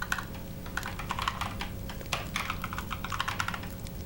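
Fingers type on a computer keyboard, a close, steady patter of light key clicks in quick irregular bursts with short pauses, over a faint constant room hum.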